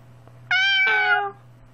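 A single cat meows twice in quick succession, a clear, close, drawn-out call with a short break in the middle, set against a steady low hum and no talking.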